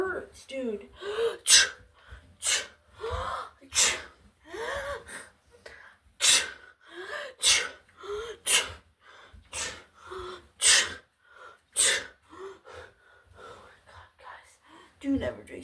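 A person sneezes over and over in quick succession, loud and close, with gasping breaths and murmured talk between the bursts.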